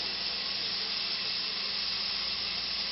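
Onion cooking in a pan for a spaghetti meat sauce, giving a steady, even sizzling hiss that stays at the same level throughout.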